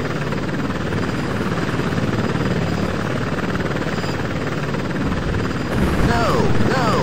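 An Apache Longbow helicopter in a 1995 flight simulation game, its rotor giving a loud, steady, throbbing drone throughout, with a brief radio voice near the end.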